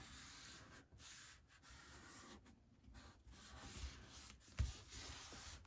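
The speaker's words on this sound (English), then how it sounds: "I'm just gonna rub, make sure it's good and down." A dry wipe rubbed firmly back and forth over glued paper in a December Daily scrapbook page, a soft, steady scratchy rubbing close by, with no talk.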